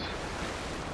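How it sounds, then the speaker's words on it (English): Waterfall in Fortnite, a steady dense rush of falling water heard close and loud as a continuous hiss with no breaks. "It's a waterfall."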